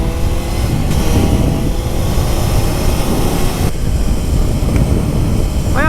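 A Suzuki GSX-R600 with its four-cylinder engine revs hard while riding, a loud, continuous, smooth howl that climbs and rises in pitch, heard close with road and wind noise and no speech over it.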